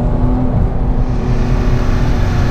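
Porsche 997 GT3 with manual gearbox on throttle release, a loud, close, deep engine drone with a steady low rumble and faint burbling overrun, no talk.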